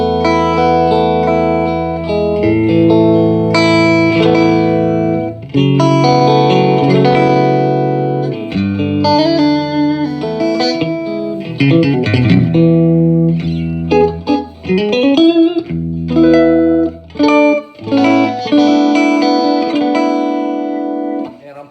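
A Stratocaster electric guitar played through a 1966 Fender Vibrolux Reverb amp, loud and close, with strummed chords and single-note runs washed in heavy spring reverb, continuous for the whole stretch with brief pauses near the end.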